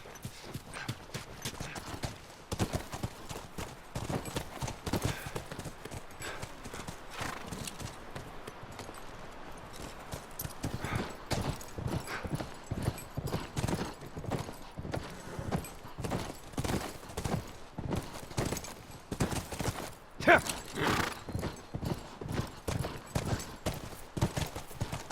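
Horses trot along in The Last of Us video game, a rapid, continuous clip-clop of hooves close by, steady throughout with faint background ambience.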